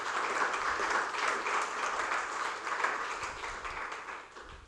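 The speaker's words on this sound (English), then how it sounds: "Give a round of applause." A round of applause from the audience at a literacy award ceremony, a steady wash of many hands clapping that swells and then fades toward the end, heard at moderate distance with no talk over it.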